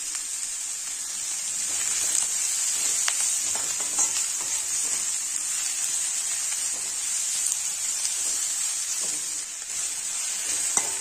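Large onions sautéing in a pan with a little salt for chicken varuval, a steady close sizzle with occasional stirring scrapes, no talking.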